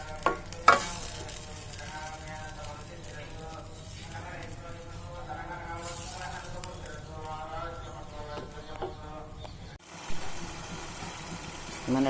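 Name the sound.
tomato paste frying and being stirred in a pan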